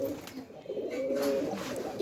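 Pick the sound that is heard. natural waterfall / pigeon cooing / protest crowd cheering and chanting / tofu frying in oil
pigeon cooing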